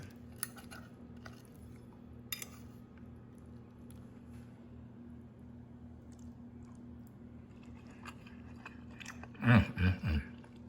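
Someone tastes garlic parmesan melted cabbage topped with cheese: quiet, soft chewing throughout against a low steady hum, ending in a few louder, wetter bites close up, no talk.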